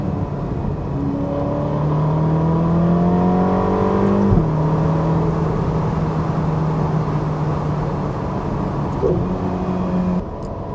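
A Ferrari California T's engine drones steadily at moderate, constant loudness while driving, with a smooth tone that shifts pitch as it rises and falls through gear changes, heard from inside the car with no talking.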